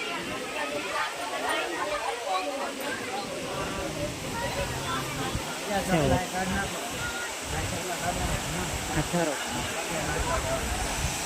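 Water running down from a hillside, a steady rushing flow heard continuously while people chatter nearby over it.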